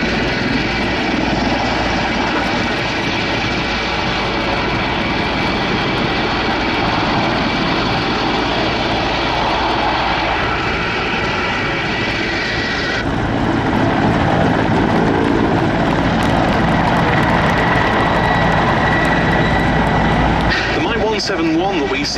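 A Mi-171 helicopter flies at the Duxford Battle of Britain airshow, its engine and rotor noise loud and steady throughout, with commentary over a public address heard on top of it.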